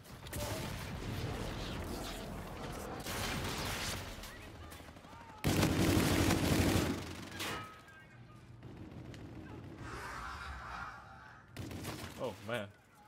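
Rapid automatic fire from the Auger LMG in Infinite Warfare, bursts of dense gunfire with a louder stretch midway and quieter gaps, mixed with game effects, while a player talks over it.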